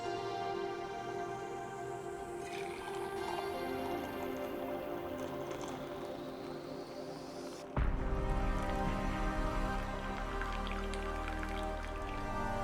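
French press coffee poured into a cup, a steady liquid trickle and dripping stream running continuously, growing louder and fuller partway through as the flow increases, close up with no talking.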